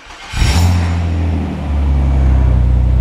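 A Renault Clio V6 engine with a lightweight flywheel cranks and catches, then settles into a loud, deep rumbling idle with a rhythmic throb, heard close by.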